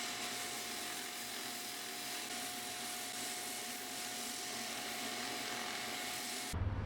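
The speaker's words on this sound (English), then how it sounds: "I was able to hook it up to my drill press, and I just made a small base, and now I can clean it up with some sandpaper" A wooden mallet spins on a drill press while sandpaper is pressed against it, producing a loud, steady whirring and rubbing hiss with a constant motor hum that stops abruptly at the end.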